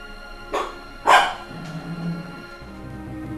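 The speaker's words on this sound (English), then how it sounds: "You gotta go bark at mommy?" A pet dog barks twice in quick succession, sharp and fairly close, followed by a fainter yip and quieter low grumbling noises afterward.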